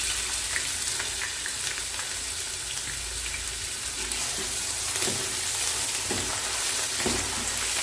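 Onions frying in a pan with ginger-garlic paste for chicken biryani, a steady loud sizzle running throughout with occasional crackles and stirring clinks, no talking.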